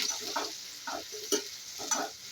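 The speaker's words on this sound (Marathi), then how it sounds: "कांदा परतवून घ्यायचा" Chopped onion sautéed with cumin in a pan for Kolhapuri chicken, a steady frying sizzle broken by four rhythmic scrapes of a spoon stirring, close and moderately loud, with no voices.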